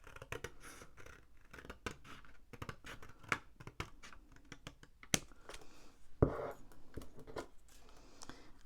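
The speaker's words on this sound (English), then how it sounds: "And then you want to cut from this edge all the way up to the corner there that meets that" Scissors snip through paper card along score lines to shape a 3D gift box, a run of close, crisp cuts and scratchy paper sounds with one louder snap near the end, no voices.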